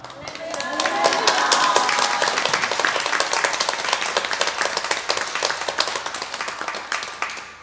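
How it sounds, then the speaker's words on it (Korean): A church congregation applauds to welcome a visiting pastor at a Sunday worship service, a dense burst of clapping that swells within the first second and continues steadily, with a few voices mixed in. "오늘 현방교회 말씀 전해 주시기 위해 오신 유성준 목사님 나오실 때 큰 박수와 함께 할렐루야로 따뜻하게 맞아주시기 바랍니다."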